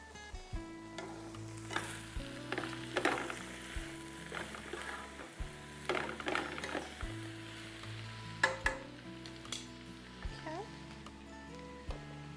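Spinach sizzles and crackles in a hot pan for a Turkish-style vegetarian dish, with steady frying hiss, scattered sharp pops and occasional stirring clinks, near and moderately loud, with background music underneath.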